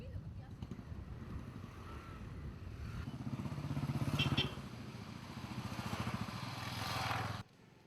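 Motorcycles ridden by foreign tourists in Anjuna, Goa, a moderate engine buzz that swells and fades twice as bikes pass, with some wind noise and talk in the background.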